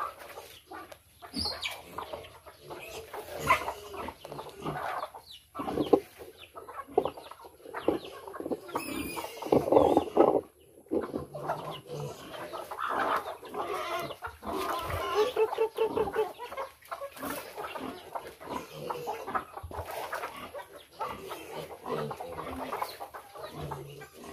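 A farmyard flock of chickens and chicks clucks and cheeps continuously at close range, with a busy overlapping chatter, occasional louder squawks and some wing flapping.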